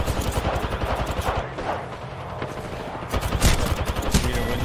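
Rapid automatic gunfire from close-range fights in Apex Legends with an R-301 or R-99, dense loud bursts layered over each other with scattered impact cracks, sustained across the whole stretch.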